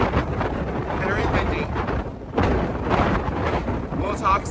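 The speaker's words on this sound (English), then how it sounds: "so it's very windy." Strong wind buffets the microphone on a cruise ship pool deck aboard the MSC Meraviglia at night, a loud continuous roar with gusty swells and a brief lull, with a voice talking over it.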